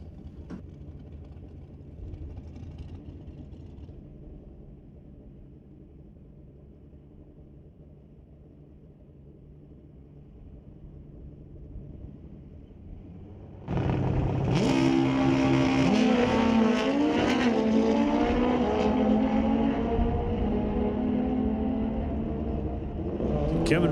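Kawasaki and Suzuki drag racing motorcycles at a raceway idle as a low rumble, then erupt abruptly into a loud, screaming high-revving launch that stays intense and slowly fades as the bikes pull away.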